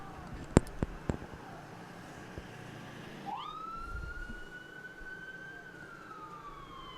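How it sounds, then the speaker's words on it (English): An ambulance siren passes by near a high school varsity baseball game, a distant rising wail that sweeps up and holds, faint under ambient outdoor noise after a few sharp knocks. "Had an ambulance go by."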